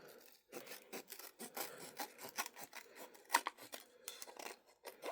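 Scissors trim thin paper for a Valentine's craft project, a close, quiet series of rapid snips and rustling cuts in an irregular rhythm with short pauses between strokes.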